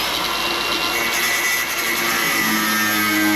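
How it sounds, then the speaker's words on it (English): An angle grinder cuts off a rusty truck bolt, making a loud, close, continuous whine with broad hiss that runs unbroken from start to finish. "So now we're gonna get that bolt whizzed out with grinder."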